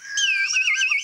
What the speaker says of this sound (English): to assist you, you have some bird whistles beside you